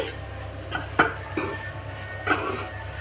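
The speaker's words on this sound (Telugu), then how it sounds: "ఇప్పుడు మనం మసాలా వేద్దాం. మసాలా వేస్తే బాగుంటుంది ఫ్రెండ్స్ కర్రీ. అవును. ఇప్పుడు కలపండి, మంచిగా కలపండి." Masala being stirred into a soya chunk curry in a pan, giving a soft continuous sizzle with a few distinct spoon scrapes and taps against the pan at irregular intervals.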